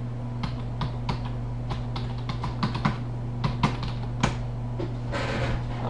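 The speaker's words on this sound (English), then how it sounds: "if I could figure out how to type, it would work." Typing on a computer keyboard during a NinjaTrader webinar, heard as bursts of sharp, close key clicks with short pauses, over a steady low electrical hum and no talking.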